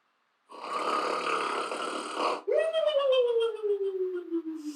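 A cartoonish snoring sound effect from the Scratch sound library plays on its own, close and clear, with a raspy inhaled snore followed by a long whistling exhale that falls in pitch.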